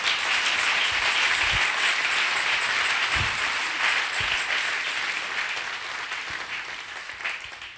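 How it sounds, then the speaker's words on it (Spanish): A church congregation gives strong applause during a sermon: a full, steady roar of clapping that gradually tapers off and grows softer toward the end, with a few louder individual claps standing out. "Dele fuerte el aplauso al Señor"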